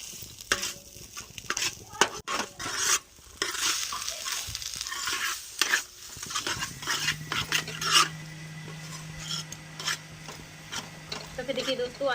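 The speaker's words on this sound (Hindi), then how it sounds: "अब इसको चला करके हम अच्छे से मिक्स करेंगे।" Spiced potato for aloo tikki is stirred and mixed in a pan with irregular scraping and clinking strokes, a soft sizzle and hum rising in the second half, fairly quiet and close.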